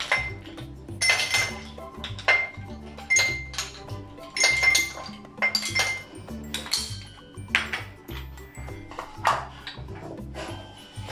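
Ice cubes clinking and rattling into two drinking glasses while a summer drink is prepared, a steady run of bright glassy clinks and knocks, close and fairly loud, with a low musical backing throughout.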